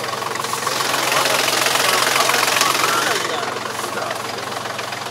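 Iseki NT35 tractor engine running steadily at mid-distance during wheat sowing in a field, a continuous rough broadband drone with a knocking texture that swells slightly then eases.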